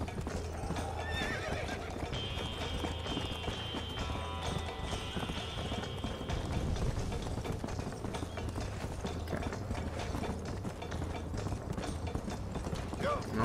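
Horse hooves clip-clopping in the video game Red Dead Redemption, a steady rapid galloping rhythm with an occasional neigh, creaking tack and mechanical rattles throughout.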